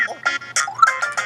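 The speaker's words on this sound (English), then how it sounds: "Sorry, that was my phone." A phone ringtone plays a short bright electronic melody of quick chirping notes, close and fairly loud, with no talk over it.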